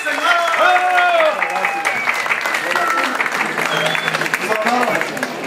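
Sustained applause from a large crowd for a mariachi band at an outdoor kiosk, loud and steady, with voices and cheers mixed in under the clapping.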